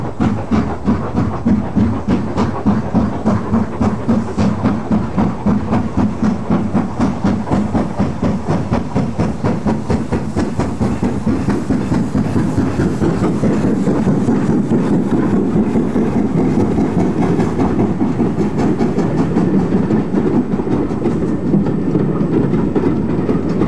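An LMS Black Five express steam locomotive of the London, Midland and Scottish Railway runs on a Highland main line, its loud, rhythmic chuffing beating steadily over a continuous rumbling roar for the whole stretch.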